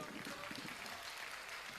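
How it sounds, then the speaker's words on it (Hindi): Audience at a Hindi poetry gathering applauding in a brief, continuous burst of clapping, moderately distant and steady throughout. "जोरदार तालियां होनी चाहिए।"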